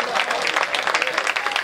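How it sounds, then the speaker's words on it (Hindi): An audience at a Hindi kavi sammelan poetry recital applauds: dense, steady clapping from a large crowd that fills the space, loud and close, with a voice faintly mixed in. "रहने दीजिए तालियों को"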